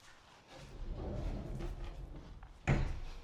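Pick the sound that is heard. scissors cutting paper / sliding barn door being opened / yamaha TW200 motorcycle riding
sliding barn door being opened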